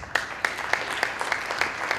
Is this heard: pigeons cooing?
no